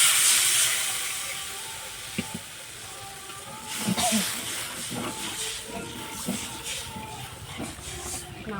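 Coconut-milk gravy boils in a pan for a kakrol dish, giving a loud, steady steamy hiss with scattered close bubbling pops and a faint voice underneath.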